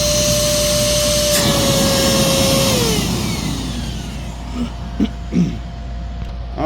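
Singer Lazer Storm AS 01A vacuum cleaner running during an airflow test with its exhaust sealed into a box, a loud steady whine whose tone drops as it powers down, followed by a few knocks and handling sounds.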